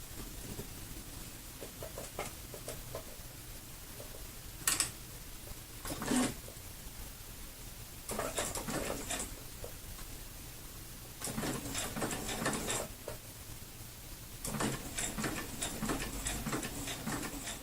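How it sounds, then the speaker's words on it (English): A sewing machine stitches a quarter-inch seam with a short backstitch, attaching binding to a quilt edge. It runs in several bursts of rapid mechanical ticking, separated by pauses and a few sharp clicks, close and steady, with no talking. "I'm going to do a 1/4 inch seam, and I will do a little bit of a back stitch at the beginning"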